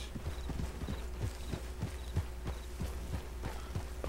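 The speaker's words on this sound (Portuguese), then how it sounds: "Olha lá nossos cavalos" Horses' hooves clip-clop in a steady, even rhythm inside a farm corral, a moderately close series of soft thuds with faint background noise.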